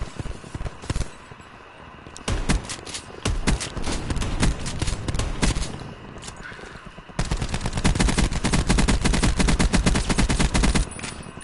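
Rapid gunfire in Black Ops 4 Blackout rattles in dense automatic bursts, loud and close, growing into a sustained hammering stream of shots toward the end.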